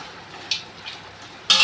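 Chicken biryani stirred in a large boiler pot: soft scraping and a couple of sharp metallic clinks of a spoon against the pot, the last one louder and longer.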